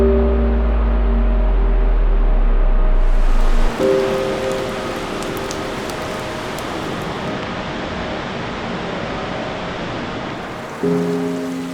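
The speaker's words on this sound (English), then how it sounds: "the largest indoor waterfall in the entire world" A steady, loud roar of water falling in the world's largest indoor waterfall, the Rain Vortex at an airport, rushes without pause, with a faint low hum and tones audible near the start.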